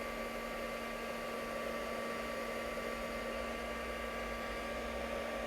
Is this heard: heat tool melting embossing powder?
yes